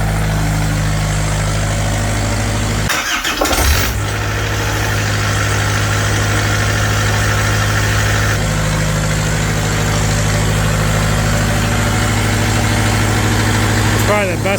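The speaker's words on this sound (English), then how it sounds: "Probably the best starting diesel I've ever seen in the cold." A diesel engine turns over and catches on a cold start, with a brief burst of cranking giving way to a steady, loud idle that runs on with a low rumble and mechanical clatter.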